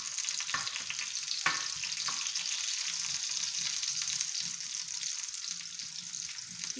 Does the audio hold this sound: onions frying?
yes